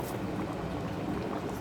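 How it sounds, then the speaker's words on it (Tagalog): Water at a steady rolling boil for vegetable soup, a constant close bubbling hiss with no breaks and no talking. "So I'm now boiling water to add to the soup."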